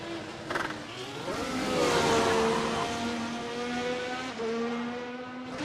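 A race car at the Canada round of a racing series growls as it reverses off a runoff road, its engine rising and falling in pitch through gear changes before pulling away steadily.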